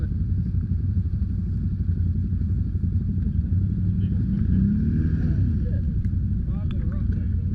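An off-road vehicle's engine drones and revs steadily while stuck in mud on a rough bypass trail, loud and close throughout, with people talking over it.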